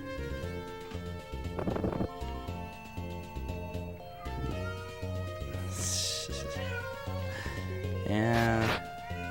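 A cat meows several times, close and fairly loud, with a rising drawn-out call near the end, mixed with game music and a voice talking.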